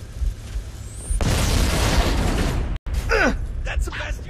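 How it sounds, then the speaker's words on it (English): A grenade blast in the Halo video game, a loud broadband boom that swells at about one second and rumbles for over a second, followed by sharp gunfire bursts and chirping effects as a voice speaks. "That was a grenade."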